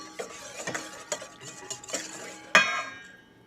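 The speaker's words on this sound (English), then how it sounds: "Whisk it together." Pancake batter is whisked in a bowl with quick, rattling metal strokes that scrape and clink in an uneven rhythm, close and clear, ending in a sharper knock.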